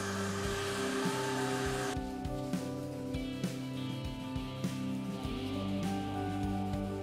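A vacuum cleaner runs with a steady whine and hum, sucking up wood shavings, its pitch shifting slightly partway through, with small thumps and bumps along the way.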